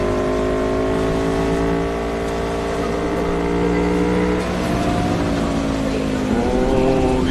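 Car traffic swirls around a motorbike weaving through the streets in the video game Cyberpunk 2077, with engine tones rising and sliding in pitch as vehicles pass close, and a brief swell near the end.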